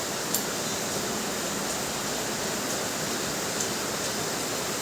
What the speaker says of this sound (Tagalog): Patuloy ang ulan pa sa labas.